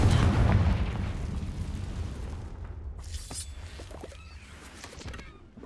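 A fiery blast spell explodes in the Hogwarts Legacy video game, opening with a loud booming burst that rolls off into a decaying rumble, followed by softer crackling debris and small clattering impacts.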